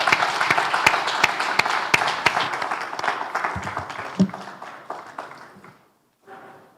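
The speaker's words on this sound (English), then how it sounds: "Another round of applause, please." Audience at an agricultural sector conference applauds after a talk ends, a loud, dense burst of many hands clapping with sharp individual claps standing out, gradually thinning and fading toward silence before a brief quiet voice.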